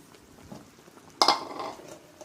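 A spoon stirs semolina in melted sugar in a pan, giving a soft scraping and then one sharp metallic clink of utensil on pan, followed by a brief sizzle.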